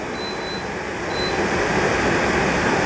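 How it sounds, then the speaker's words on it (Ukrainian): A Trotec TTK 71 E dehumidifier runs with its compressor and fan on, giving a steady broadband whir and hum that holds evenly and grows slightly louder partway through, with no voices. "Зараз осушувач працює і витягує вологу."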